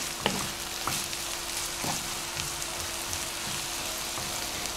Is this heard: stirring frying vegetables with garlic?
yes